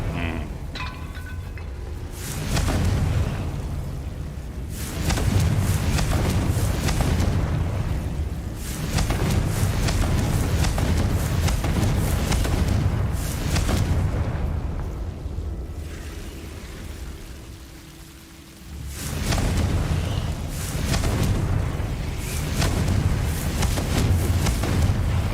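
Confringo fire spell blasts in Hogwarts Legacy on PC: repeated loud booming explosions with rumbling low-end roars, each swelling and fading before the next, with short quieter gaps between.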